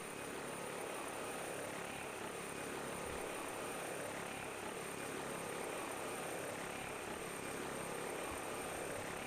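A simulated helicopter in a flight simulator set around Catalina Island gives a steady, loud rotor and engine drone that holds evenly throughout, with no talking.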